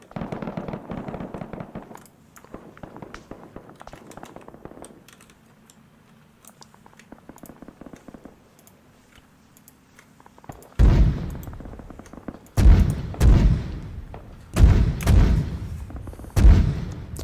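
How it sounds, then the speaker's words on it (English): Heavy tracer gunfire in Arma 3, with the JSRS Dragonfyre sound mod, booms out in four loud, deep bursts after a long stretch of quiet computer keyboard typing. "There's some heavy tracer fire, though."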